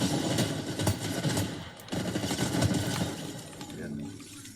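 Rapid video-game gunfire rattles steadily for several seconds, with dense bursts of shots and a short break midway, heard alone without talk.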